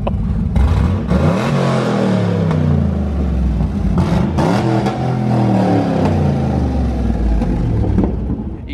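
Straight-piped BMW Z4 six-cylinder engine revving hard and loud up close, several sharp climbs and drops in pitch with a raspy, rumbling exhaust note and no talking.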